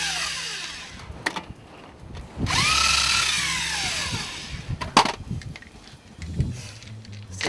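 A power tool spins off the lug nuts of a Jeep JK during a brake job: a loud, whirring burst lasting about two seconds, rising and falling in pitch, set among sharp clicks and clunks of handling.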